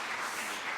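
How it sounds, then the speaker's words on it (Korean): A church congregation claps together in a brief burst of steady, dense applause, fairly soft and heard from a distance. "하나님께 영광의 박수 올립니다"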